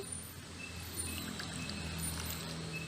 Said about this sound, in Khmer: ដំបូងយើងដាក់អំពិលទុំយើងមកកូនដុំមកយើងចាក់ទឹកឆ្អិនចូល